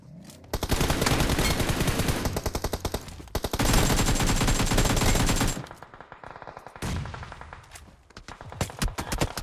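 Rapid, loud bursts of automatic gunfire in PUBG Mobile rattle continuously, then pause and resume in shorter scattered volleys, with the crisp, compressed sound of video game weapons.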